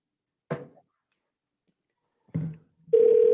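A telephone call is placed: two short thunks or button presses, then a steady ringback tone begins near the end, with no one speaking.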